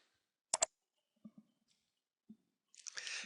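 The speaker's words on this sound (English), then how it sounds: "I can click on the search icon to execute a simple search" A computer mouse clicks on a search icon: a sharp double click up close, then a few softer, sparse clicks against near silence, ending in a brief rustling burst.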